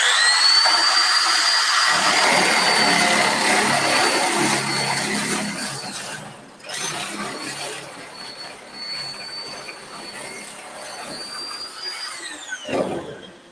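Steel for a shop table being cut, giving a continuous loud high-pitched screeching whine with sustained tonal squeals that fades slightly and stutters near the end, with no talking.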